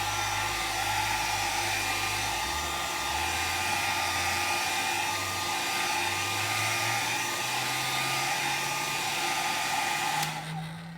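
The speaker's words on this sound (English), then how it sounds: "let's give it a little push with the hairdryer" A hair dryer blows continuously at close range over masking fluid on a watercolour painting, a steady whooshing roar with a whining motor tone that shifts pitch before switching off at the end.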